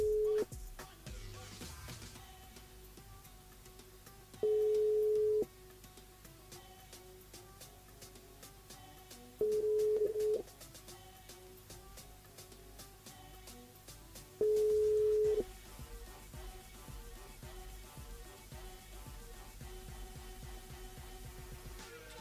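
An outgoing call to a listener during a live radio show: a steady telephone ringback tone pulses about four times, each beep roughly a second long with regular gaps, over faint studio background.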